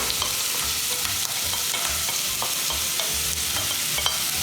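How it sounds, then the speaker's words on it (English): Onions, carrot and celery, finely chopped, frying in a pan with a steady close sizzle and occasional stirring scrapes throughout, no talking. "I'm going to go in the pan now with the onions, carrot and celery"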